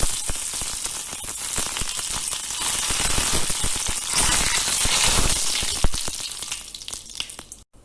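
Mustard seeds and curry leaves sizzle and crackle in hot vegetable oil in a pan, a loud, dense frying hiss with sharp popping spatters throughout, tapering off toward the end.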